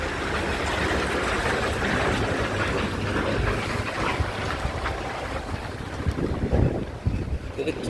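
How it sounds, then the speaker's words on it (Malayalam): Strong wind blows through the night at Thiruchilpuram in Tamil Nadu, a steady broadband roar with gusty microphone buffeting that swells slightly toward the end. "നല്ല കാറ്റുണ്ട് രാത്രിയാണ്."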